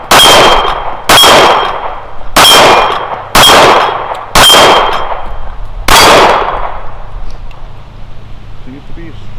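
A Les Baer Stinger 1911 pistol fires Freedom ammunition at an outdoor range, six loud sharp shots with ringing decay, spaced about a second apart and then fading into open-air quiet.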